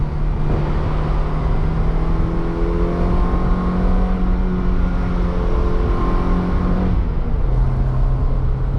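An old Mazda Miata being driven, with a loud steady engine drone and road roar close by, shifting tone midway as it revs and changes speed.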